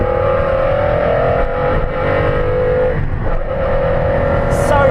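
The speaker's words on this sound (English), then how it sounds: "the engine, which just, the intake noise is extraordinary." A sports car's engine pulls hard under acceleration, its loud, sharp intake roar sustained and close throughout, with no break in the sound.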